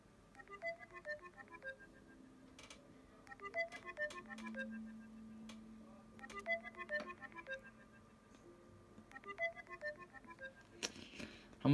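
An outgoing Snapchat call rings on an iPod with repeated electronic ringback tones in spaced bursts, faint and close, with no voices.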